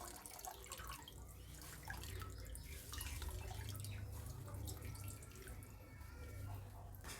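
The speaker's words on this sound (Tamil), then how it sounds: "மடிச்சுட்டு இதில் இருக்க தண்ணி எல்லாத்தையுமே நம்ம வடிச்சிடணும்." Water drains and drips from a folded, squeezed cloth used to strain homemade rasmalai curds, a steady trickle with scattered drops close by and no talking.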